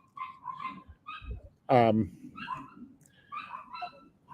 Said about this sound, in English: I'm sorry about the annoying dogs